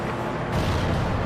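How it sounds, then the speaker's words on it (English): Cannon fire in the video game Haze, a dense, loud, sustained booming roar that fills the whole moment without a break. "Cannons."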